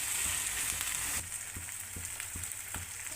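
Onion-tomato paste frying in hot oil with mustard seeds and cumin for paneer bhaji, a steady close sizzle that starts loud, then settles after a second into a softer hiss with faint stirring ticks.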